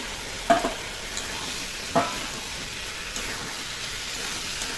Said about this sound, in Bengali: এখন ভেজে রাখা আলু পটলটা দিয়ে দেবো।